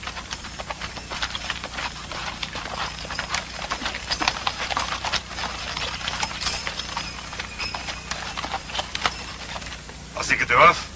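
Horse hooves clip-clop at a steady walking pace on a hard surface, close and clear throughout, as people talk over them.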